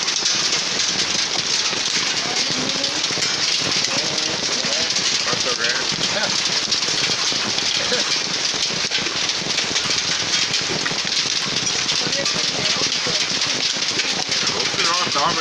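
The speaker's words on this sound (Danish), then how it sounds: "det regner helt vildt. Og det havler nu." Heavy rain mixed with hail pelting down hard and steadily during an August storm at a boat harbour, a dense, loud, unbroken wash of hiss and patter with people talking over it.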